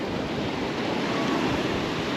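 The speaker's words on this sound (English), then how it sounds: "The sound of water just flowing, it's a beautiful thing." Open ocean at night heard from the deck of a Carnival cruise ship: a steady, dense wash of waves and rushing water with wind noise, continuous and fairly loud, no talking.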